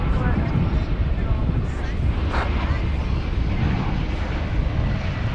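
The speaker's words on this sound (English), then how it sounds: "It's an Airbus A321." An American Airlines Airbus A321 at DFW Airport gives a loud, continuous low engine roar mixed with wind rumble, steady throughout, with a voice faintly audible.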